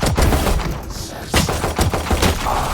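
Rapid bursts of spraying gunfire from a Phantom rifle in Valorant, loud close automatic shots in short clusters with brief pauses between them.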